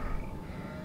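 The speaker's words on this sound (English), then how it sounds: "Why are there sheep everywhere?" Sheep bleating in the Nancy Drew: The Haunting of Castle Malloy video game: a single drawn-out, wavering bleat heard up close and alone.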